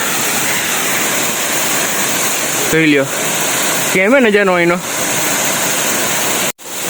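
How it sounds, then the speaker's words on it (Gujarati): A forest waterfall below a hilltop Khodiyar temple gives a loud, steady rushing roar that fills the whole clip. Someone speaks briefly over the constant water noise. "જો આવી ગયો આ ધોધ"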